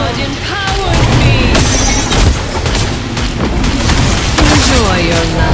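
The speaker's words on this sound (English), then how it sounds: "Our turret has been destroyed." Explosions and battle effects in the Mobile Legends game as a turret is destroyed, with dense booming impacts and crackling bursts layered over game voice lines and music throughout.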